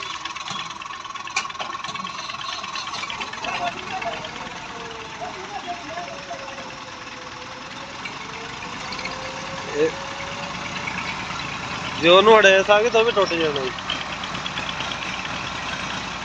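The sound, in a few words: Massey Ferguson 240 tractor engine idling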